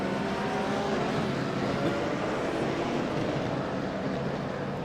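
GT3 race cars at Circuito de Jerez, a dense broadband roar of engines that holds steady and loud throughout, with no clear individual pass-bys and no talk.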